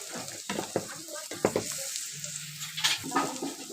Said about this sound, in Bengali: এবার মশলাটাকে ভালো করে কষিয়ে নিচ্ছি।